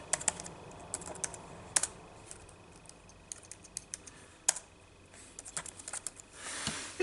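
Typing on a Samsung netbook keyboard: irregular light key clicks and taps, close and fairly quiet, with a brief louder rustle near the end.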